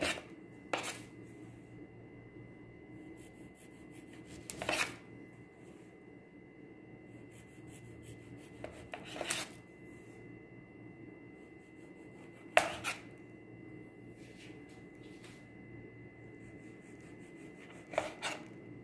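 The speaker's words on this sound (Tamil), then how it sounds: "இந்த 4 சைடு எட்ஜையும் கட் பண்ணிக்கலாம்." Knife slicing the four crust edges off sandwich bread, four distinct crisp cutting strokes spaced several seconds apart over a quiet background, close and clear, with no talking.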